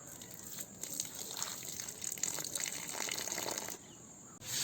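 Soaking water drained off sprouted millet pours in a steady gush for a few seconds, then cuts off briefly before a final splash, close by with no voices.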